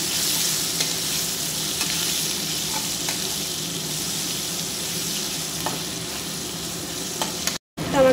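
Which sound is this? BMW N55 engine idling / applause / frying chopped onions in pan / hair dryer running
frying chopped onions in pan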